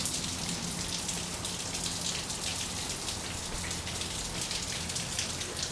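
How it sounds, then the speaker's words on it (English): Heavy rain pours down in a dense, steady hiss of drops striking surfaces, constant and close with no voices. "Listen to that rain."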